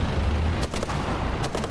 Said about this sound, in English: Starter pistols.